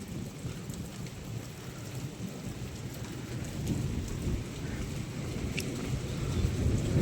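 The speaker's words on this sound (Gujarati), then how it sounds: "વરસાદ પણ બંધ થવાનું નામ નથી લેતો." Heavy, steady rain pours down during a thunderstorm, with low rumbling thunder building beneath the dense hiss of downpour, which grows slightly louder toward the end; no voices.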